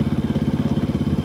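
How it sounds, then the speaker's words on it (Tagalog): Motorcycle engine running close by, a steady rapid putter of regular pulses, loud and continuous for the short moment. "nananakbo po itong motor"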